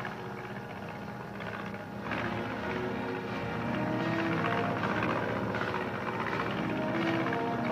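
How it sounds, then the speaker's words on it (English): A steady aircraft engine drone, fairly close, growing slightly louder over several seconds with a rough rumbling texture and no talking. "Watch the plane."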